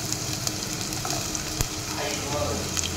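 Onions sizzling in hot oil in a wok (kadai) as chicken curry is started. The frying hiss is steady and close, with a few faint stirring clicks and no voices.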